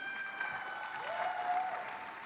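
Audience applause at a youth conference session honouring women CEOs, a steady, moderately loud wash of clapping that holds evenly across the short stretch, with faint tonal hum layered through it.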